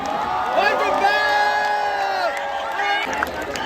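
A concert crowd at the IIT BHU fest screams, whoops and cheers in a loud, sustained roar with high shrieks on top, easing off after about three seconds.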